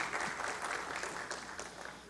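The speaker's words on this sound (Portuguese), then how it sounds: "eu peço, inclusive, uma salva de palmas para essas 2 autoridades" Applause rises from the audience at a formal ceremony in Manaus honoring two medical authorities, a moderate wash of many hands clapping, somewhat distant and steady through the short stretch.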